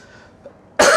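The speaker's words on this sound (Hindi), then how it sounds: "सॉरी, खांसी के मसले" A single sharp cough bursts out near the end after a quiet moment, close and loud.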